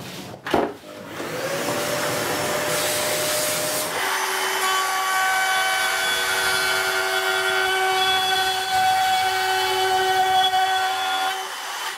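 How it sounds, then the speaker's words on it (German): A vacuum cleaner in a workshop starts with a thump and spins up into a loud, steady high-pitched whine that holds for about eight seconds before cutting off near the end. "Ich muss erstmal ja saugen."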